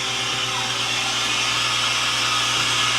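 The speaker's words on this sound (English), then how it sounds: "That releases the vacuum pressure from inside the machine." A home freeze dryer vents its vacuum through the opened drain valve, a steady loud rushing hiss of escaping air with a low mechanical hum underneath, unbroken throughout.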